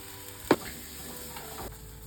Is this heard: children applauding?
no